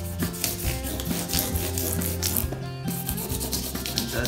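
Guitar frets on a Blueridge guitar are sanded with super fine grit paper, producing continuous close scratchy rubbing strokes in a steady back-and-forth rhythm, alone without talk.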